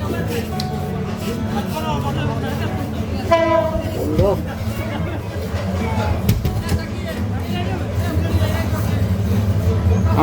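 The Parabat Express passes with a loud, steady rumble of railcars and a short horn blast partway through. Voices and station babble sound nearby throughout.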